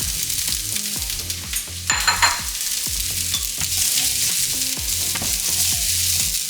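Peppers hit broccoli already sizzling in a hot frying pan, a loud steady sizzle with a brief flare of hissing and a regular rhythm of stirring knocks and scrapes throughout, no talk.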